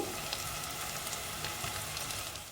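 Onions, curry leaves and sliced green chillies fry in a pan for a mutton curry, giving a steady, dense sizzle with small crackles. It sounds close and even throughout, with no voices.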